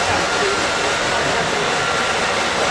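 A Lionel LionChief Plus toy train engine runs with a steady, dense whir and rattle, loud and close, continuous throughout.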